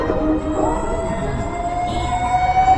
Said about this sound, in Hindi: मैं एम्बुलेंस को हमेशा साइड देता हूँ